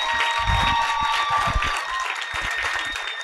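Audience applause in a hall, a loud burst of many hands clapping that continues steadily and thins slightly toward the end.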